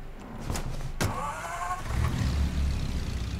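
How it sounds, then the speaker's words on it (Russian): A car engine in the video game Mafia Definitive Edition hums at a low, steady idle, rising slightly in the last second and a half, with a couple of brief mechanical clicks near the start. "Ну а звук такой приятный у машины."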